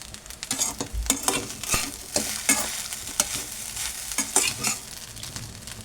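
Potato rice with crushed kasuri methi is stirred in a hot pan, repeated scraping strokes and clinks of the spatula over a light sizzle, close and moderately loud, without speech.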